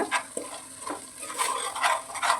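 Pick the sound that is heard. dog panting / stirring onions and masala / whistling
stirring onions and masala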